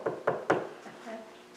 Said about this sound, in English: you hear the knock on the door